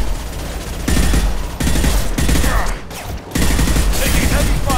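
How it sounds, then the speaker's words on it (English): Heavy sustained automatic gunfire from a Mass Effect 2 firefight, loud dense bursts nearly continuous with brief drops between volleys. "Taking heavy fire."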